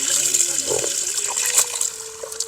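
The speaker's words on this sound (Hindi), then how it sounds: "प्रभु एक सेकंड में थोड़ा सा पानी पी लूं, देखता हूं कैसा पानी है" Water being poured and sipped, with a continuous close trickling and gurgling flow and a few small splashes.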